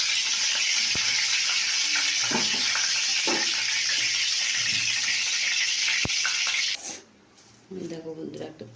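Pointed gourd (potol) frying in a pan, a loud continuous hiss and sizzle of oil that drops away abruptly near the end, followed by faint stirring and clinks.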